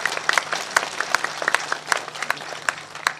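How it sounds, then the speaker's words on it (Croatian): An audience at a religious gathering gives steady applause, with sharp individual claps scattered over a soft continuous bed of clapping, moderately close and sustained throughout. "Zbog toga oni zaslužuju naš jedan dobar aplauz danas."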